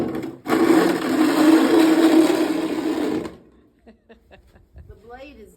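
A snow shovel blade scrapes across a front porch during a Tulsa snow storm. One loud, continuous grinding scrape lasts about three seconds, then stops abruptly, leaving faint, sparse sounds and brief voices.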